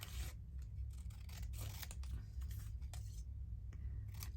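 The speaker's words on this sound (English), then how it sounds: "So I do my best to cut straight here because we're doing straight things. Although I can cut crookedly with my cutter" A paper cutter slicing through paper samples, close and quiet, with a run of short scraping and crunching strokes and no talk.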